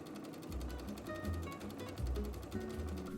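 A sewing machine stay stitches a skirt waist edge with a regular stitch, a steady close mechanical whir with a low rhythmic pulse that surges in two bursts, with no talk.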